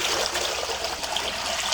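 Water is poured into a tank holding young Australian red claw crayfish, a close, continuous splashing gush that runs for the whole short stretch without pause.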